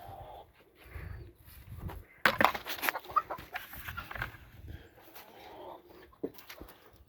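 Brown red chickens clucking around feeding time on a farm, scattered close clucks and squawks with a burst of louder flurried calls midway, against a quiet background.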